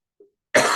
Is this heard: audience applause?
no